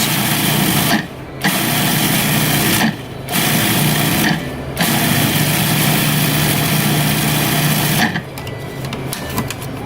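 A food processor minces garlic for a Lebanese garlic spread, running with a loud, steady motor whir cut by three short pauses between pulses before stopping near the end.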